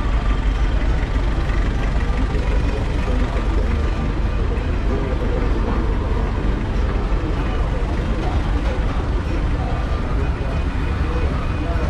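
A long line of trucks idles at a large livestock and farm market in eastern El Salvador, a steady low engine rumble with a broad crowd bed, continuous and fairly loud, with distant voices mixed in.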